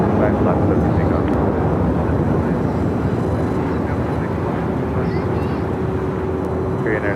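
Airliner taking off at Los Angeles International Airport, a loud continuous broadband jet roar rising through the clip, with radio chatter and a voice talking over it.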